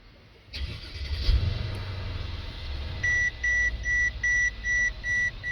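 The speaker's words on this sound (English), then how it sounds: "Let me start the car." A 2013 Mercedes CL550 engine starts with a brief rising crank and settles into a low idle, followed by a steady series of high electronic chimes repeating evenly.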